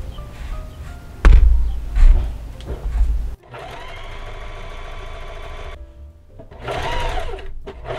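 Sewing machine stitching a knit fabric casing, running in a steady whir for a few seconds, with thumps and handling of fabric before it and a second short burst of stitching near the end.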